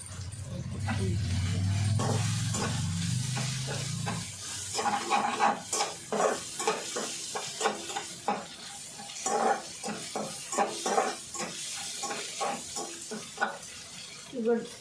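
An egg cooked in a pan with ivy gourd, steady sizzling and frying with a utensil scraping and stirring against the pan in repeated close strokes; a brief voice is heard early on.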